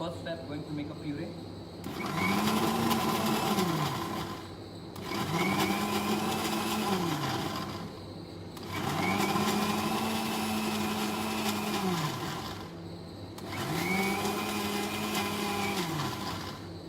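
A blender purees eggplant bharta in four whirring bursts of several seconds each, the motor pitch rising and settling with each run and short pauses between, while a voice can be heard in the background.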